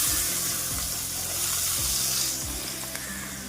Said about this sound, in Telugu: ఇప్పుడు ఇదే ఆయిల్లో ఉల్లిపాయలు వేసుకుంటున్నాను